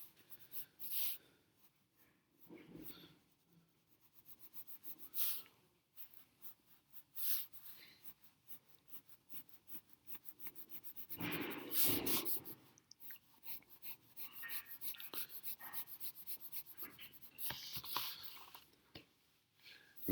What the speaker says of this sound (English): I'm dragging the pencil over. I am not pressing extremely hard.